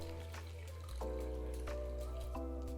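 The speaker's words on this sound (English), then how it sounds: "Now add about 3 to 4 cups of water." Water poured into an electric hot pot with the hot pot base melted inside, a faint trickle with soft drips and small splashes over a steady low hum.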